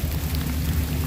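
Steady heavy rain falls outside a camper van, a loud continuous wash with a deep rumble underneath and no talking.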